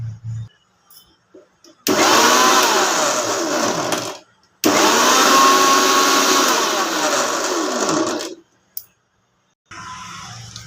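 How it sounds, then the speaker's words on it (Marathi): Kitchen mixer grinder whirring loudly as it grinds milk powder for a dry fruit sweet, in two long bursts of about two and four seconds separated by a short pause, ending with a brief pulse and a quieter tail. "आता ह्याला सुद्धा आपल्याला पुन्हा मिक्सरला चांगलं वाटून घ्यायचे"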